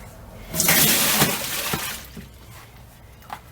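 Water from a bucket used for soaking cloth pads is tipped out in one long splashing pour that lasts about two seconds, followed by a few drips and light knocks.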